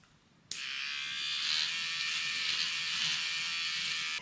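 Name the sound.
pet hair trimmer removing seams from fabric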